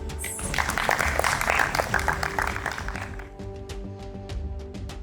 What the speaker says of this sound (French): Alors je vous prie d'acclamer très fort pour ma compagnie.